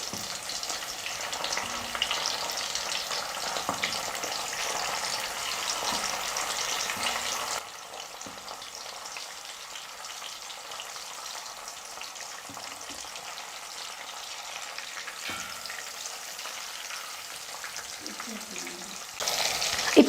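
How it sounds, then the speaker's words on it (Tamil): Fish sizzling and frying in a pan, cooked on both sides, a steady close crackle of hot oil running throughout with faint stirring noises and a brief louder burst near the end. "2 பக்கமும் மீன் வந்து நல்லா ஃப்ரை ஆகிட்டு வந்துருச்சு."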